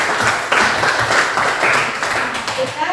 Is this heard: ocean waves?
no